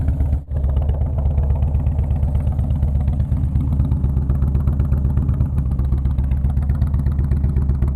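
A Harley-Davidson Road King with an aftermarket Thunder header idles steadily and loud up close, its deep lumpy exhaust burble running unbroken for the whole stretch with no talking.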